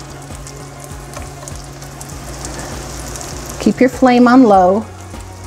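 Slices of cornmeal mush fry in a nonstick skillet over low heat, giving a steady soft sizzle throughout while a person talks.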